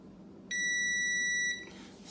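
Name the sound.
multimeter continuity test beep on dryer heating element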